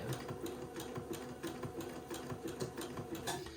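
A sewing machine zigzag-stitches gathered lace to entredot for an heirloom garment. It makes a quiet, quick, even run of needle clicks with a soft motor hum, heard close and with no talk.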